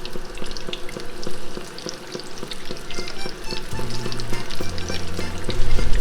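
Large breaded arancini rice balls deep frying in oil heated to about 380 degrees, with a steady dense sizzle and crackle throughout, close and loud, plus a low tonal hum rising in the latter half.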